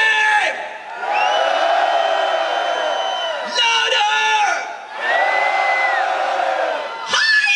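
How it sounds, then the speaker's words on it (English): A large heavy metal festival crowd at Masters Of Rock 2011 roars and screams in long sustained waves, loud and close, swelling and dipping three times across the span with whoops and yells mixed in. "And if you guys like metal, I want to hear you fucking scream!"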